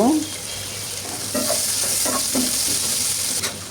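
Ginger garlic paste hits hot oil in a pan, a sharp sizzle burst at first followed by steady frying hiss with a few stirring scrapes, close and alone without speech.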